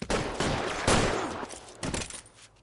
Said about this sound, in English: 211 and shots fired